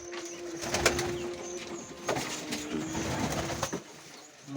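A pigeon coos in soft, low, repeated calls, fairly close, over a light background hum with a few sharp taps and rustles.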